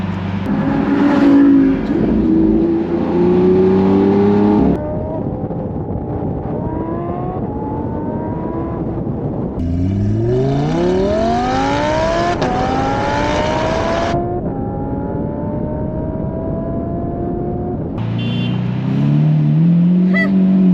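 A powerful car engine revs hard through rising gear shifts, each pull climbing in pitch before the next shift, loud and close throughout.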